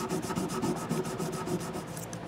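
Rubbing the dirt and light rust off the frets of a Fernandes TEJ-55g guitar: a steady, close scrubbing that runs without a break, with rhythmic back-and-forth strokes and no talking.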